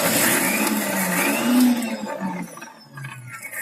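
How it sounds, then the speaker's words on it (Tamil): A kitchen mixer grinder whirs loudly up close, grinding green chillies and cumin into a smooth paste, a steady motor whine that dips and winds down near the end. "இப்ப இதை நல்லா நைஸா அரைச்சிடலாம்."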